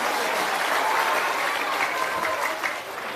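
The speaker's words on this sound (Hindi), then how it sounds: "एक बेर जोरदार ताली बजे वो प्रशांत किशोर।" Steady crowd applause at an evening political rally on an open ground in Bihar, fairly loud and continuous before tapering slightly toward the end.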